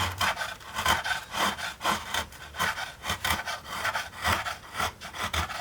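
Hand-shaping a taper on a wooden guitar top brace gives rhythmic rasping strokes, a steady back-and-forth scrape of wood repeating about twice a second at close range.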